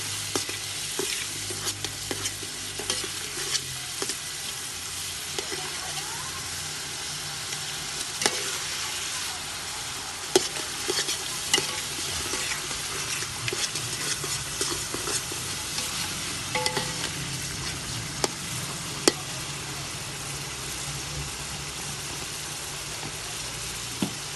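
Cumin and spices fry in oil for chicken biryani, a continuous loud sizzle with frequent scraping stir strokes and clinks throughout.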